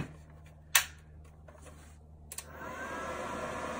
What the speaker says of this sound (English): You can hear the fan right away.